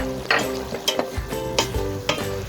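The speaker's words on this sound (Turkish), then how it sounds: "Biraz karıştıralım." Spices being stirred into a fava bean dish in a pot, with several distinct scraping strokes of a utensil over a low sizzle and faint background music.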